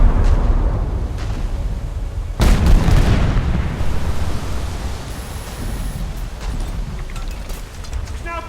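Naval gunfire and shell explosions from a warship video game, a continuous loud rumbling roar with a heavy boom bursting out partway through and lingering wash of noise afterward, no talking.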